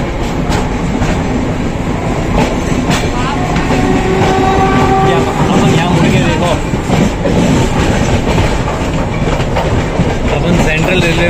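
Passenger train rolling on rails along the Konkan Railway, a loud continuous rumble with clattering wheels and rattling carriages heard from on board, with brief tonal squeals partway through.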